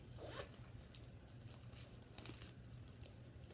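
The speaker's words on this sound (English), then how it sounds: "The zipper actually seems to work pretty nicely." A zipper on a crossbody bag is pulled open in a quick rasp, followed by soft rustling and faint scratchy handling noises, close and quiet.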